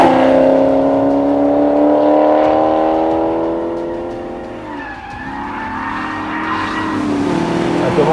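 A 2013 Maserati GranCabrio MC Stradale engine revving hard while driving, a loud rising and falling engine note with a dip in the middle before climbing again, with some tire noise.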